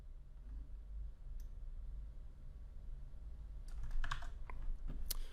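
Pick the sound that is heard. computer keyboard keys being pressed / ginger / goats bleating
computer keyboard keys being pressed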